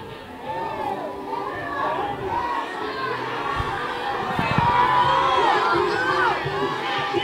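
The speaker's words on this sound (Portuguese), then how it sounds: "Torcida fica brava aqui" Spectators at an amateur football match in a local championship make a steady, rising crowd roar with shouts and whoops, heard under continuous commentator talk.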